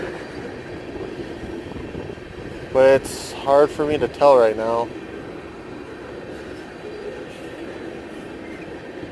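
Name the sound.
train passing slowly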